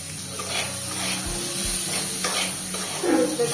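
Water splashes into a pan of frying small cut mangoes with turmeric, setting off a loud, steady spray-like hiss and sizzle close by, with a few low knocks and no talking.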